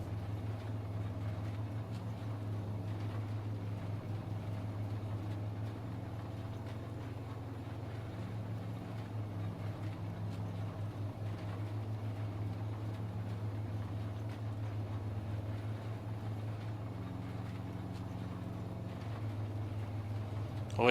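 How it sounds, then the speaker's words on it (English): A tractor engine in the farming game Farming Simulator 22 drones steadily in a low, even hum throughout, quiet and continuous with slight changes in pitch. "You can hear the tractor decently."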